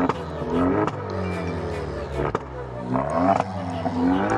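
An Alfa Romeo with its muffler deleted revs repeatedly and loudly up close. Its raw exhaust note rises and falls through several sharp throttle blips.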